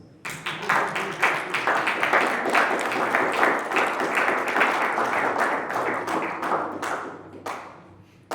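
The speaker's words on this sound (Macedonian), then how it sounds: "Аплауз." A poetry slam audience in Macedonia breaks into applause, with dense, sustained clapping that rises sharply, holds strong for several seconds and then thins and tapers away near the end.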